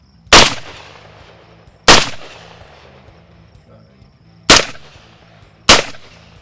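A rifle is test-fired outdoors, with four sharp, loud shots spaced unevenly a second or more apart, each cracking hard and then ringing briefly as it decays, with faint background noise between.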